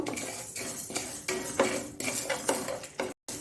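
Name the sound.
horse gram being dry-roasted and stirred in a kadai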